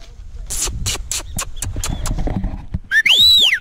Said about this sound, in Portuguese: Lá vem a égua, galera.